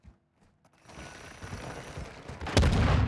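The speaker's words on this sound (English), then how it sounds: "Because I'm shooting like 6 bullets before one finally hits you." Video game gunfire with crossbow-style shots, starting sparse and quiet, then building into a dense, loud burst of rapid shots and impacts that peaks near the end.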